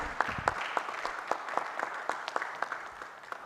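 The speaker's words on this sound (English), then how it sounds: "Give a big hand clap to my panel." An audience at an academic panel on political theory claps for the panelists, a brisk round of many separate hand claps at moderate loudness, with no talk over it.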